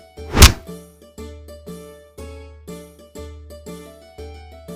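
Cartoon sound effects of a crowd beating two men: one sharp whack followed by a rapid, evenly spaced series of hollow thunks, loud and close, with no voices.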